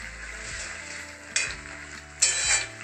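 Two eggs frying in a pan over a high flame, a steady close sizzle with two sharper surges of crackling spatter.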